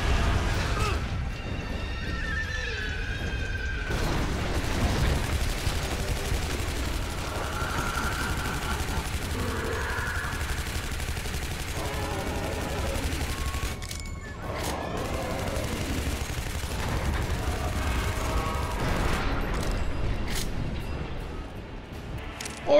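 Boss fight in the Shadow Warrior video game, with dense, continuous combat noise of rocket blasts, crashing impacts and gunfire layered loud throughout, and a short dip in intensity before the chaos resumes.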